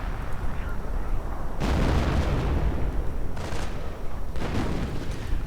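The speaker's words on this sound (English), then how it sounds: "And artillery getting called in, all the MG42 and the mortar." An artillery barrage thunders through a World War II strategy game match, deep rumbling blasts surging in overlapping waves, with a few heavier booms rising above a constant roar of battle.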